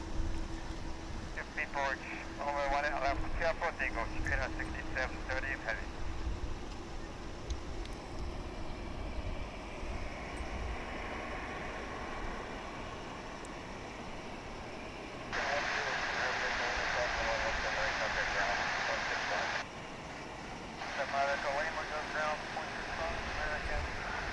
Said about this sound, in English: 787-9 Dreamliner. Off to Narita Airport in Tokyo.